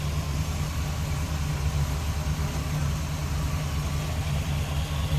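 A 350 V8 in a 1970 Chevrolet C10 pickup idles smoothly and evenly through a Flowmaster exhaust, a steady low rumble with a slight rhythmic pulse, close by and without talk.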